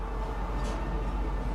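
A train rolls along in a video game, giving a steady low rumble and rail noise with a brief brighter hiss partway through, moderately loud and without talk.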